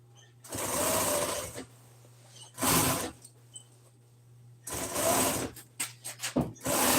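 A sewing machine stitches seat upholstery around welt cord in bursts, three or four loud whirring runs separated by pauses, the last broken into short stuttering stitches, with a low steady hum underneath.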